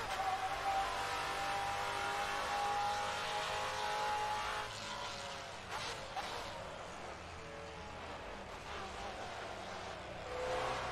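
GT4 race cars running together on a mixed grid in Assetto Corsa, a sustained loud engine drone with shifting pitch throughout, no talk.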